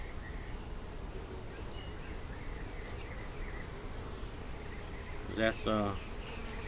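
Honeybees from a hive split off a big swarm hum steadily in a dense outdoor drone, and near the end someone speaks briefly over the buzzing.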